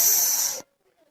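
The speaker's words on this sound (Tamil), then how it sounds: "இது என்ன உசு உசுன்னு பாம்பு சத்தம் மாதிரிலாம் கேக்குது" A cartoon character's snoring that resembles a snake's hiss, a loud sustained airy hiss lasting just over half a second before cutting off abruptly into near silence.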